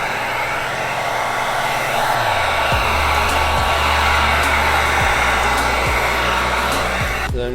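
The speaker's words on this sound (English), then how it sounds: "The heat gun, we're just going to run it over all the edges one more time." A heat gun blows a loud, steady fan-and-air roar while being run over the edges of window tint film. Low motor hum shifts partway through, and a short clatter comes at the end.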